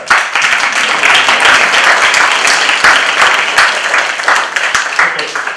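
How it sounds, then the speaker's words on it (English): A panel discussion audience at a university claps loudly and continuously, a dense crowd applause filling the whole stretch, with a few voices mixed in. "you can clap for that"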